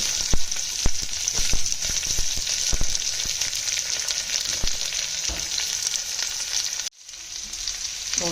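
Sliced onions fry in hot oil with vadagam and dried red chillies, giving a loud, continuous, close sizzle with scattered crackles and spoon clicks. The sizzle cuts out briefly near the end, then resumes.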